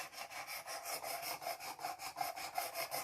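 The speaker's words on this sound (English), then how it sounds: "tonight we're just going to do the sharpening" A knife blade drawn across the abrasive stone of a Work Sharp precision sharpening system, producing a quiet, steady series of close, even rasping strokes with no talk.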